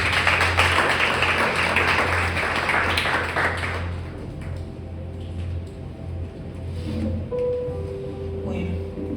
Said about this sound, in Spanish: Vamos a dar un aplauso a la palabra de Dios.